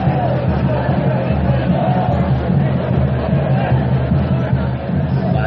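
A grassroots amateur football crowd at a Brazilian várzea tournament roars and shouts together in a dense, sustained wall of voices, with a drum band pounding underneath, loud and close throughout.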